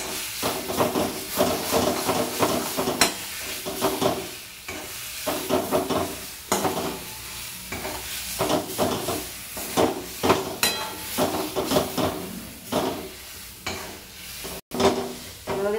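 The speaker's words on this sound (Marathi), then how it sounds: "मस्त जरा खरपूस भाजून घेते खोबरं." Grated coconut roasting in a pan for a sweet halwa, a rhythmic scraping of the spatula over dry crackling shreds, strokes repeating every second or so, close and fairly loud with a faint sizzle underneath.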